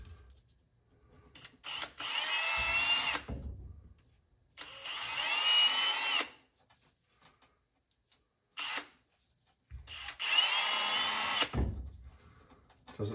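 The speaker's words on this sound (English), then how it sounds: "So I got to ream them." A power drill reams clearance holes in a metal plate in three sustained bursts of whirring, each a second or two long and separated by silence, close and fairly loud, with a couple of short blips between them.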